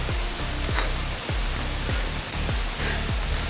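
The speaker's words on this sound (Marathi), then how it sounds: "खतरनाक पाऊस पडतो जबरदस्त" Heavy rain pours down at a waterfall near Khopoli, India, in a dense, steady wash of noise, with faint low thuds recurring about every half second beneath it.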